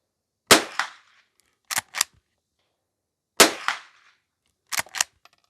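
A Henry H001 lever-action .22 rifle fires Remington Golden Bullet rounds at an outdoor target: four sharp close shots in pairs with brief gaps, the action cycling between them.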